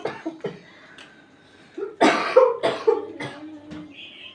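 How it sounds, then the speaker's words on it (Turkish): A person coughs several times in a short, harsh cluster, with a few quieter throat sounds before it, close to the listener. "Öksürüğe bak ya."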